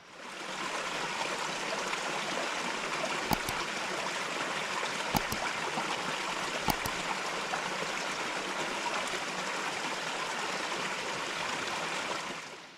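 A small headwater stream of an iconic river beside the Appalachian Trail in Georgia, giving a steady, close, broadband rush and trickle of flowing water, unbroken throughout with a few faint clicks.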